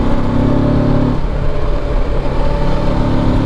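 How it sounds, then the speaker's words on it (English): A Kawasaki Versys 650 motorcycle engine idles with a rough, uneven low rumble, steady and close, with no voices. "The engine at idle sounds really terrible though"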